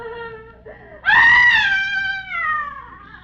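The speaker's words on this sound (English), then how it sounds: "Miss Martha, where is that shriek coming from?" Shriek in an old-time radio drama: a wavering, cat-like high wail rises abruptly after a brief lower tone and holds, then slowly falls and fades over a few seconds.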